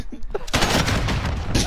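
Video game gunfire: a couple of short faint pops and then a loud, sustained burst of dense shots lasting over a second.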